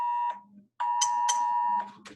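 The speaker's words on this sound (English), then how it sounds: "Sorry, I got an alarm going off." An alarm beeping in steady, loud electronic tones, two long sustained beeps separated by a short gap, with brief clicks between them and no talk.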